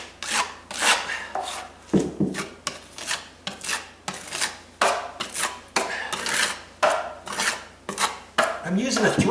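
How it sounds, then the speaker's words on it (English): A 3-inch drywall knife spreads joint compound on a wall repair in repeated rhythmic scraping strokes, each a close, loud rasping swipe with short pauses between, with no talk. "I'm using a 3-inch knife."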